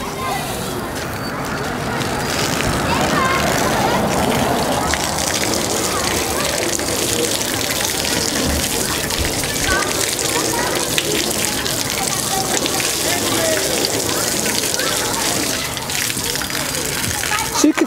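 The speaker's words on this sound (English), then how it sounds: "It does sheet water at a decent rate" Water running and splashing off the panels of a car freshly coated with a wax-free spray finish, a steady broadband rush lasting throughout with a soft patter, heard close up and fairly loud.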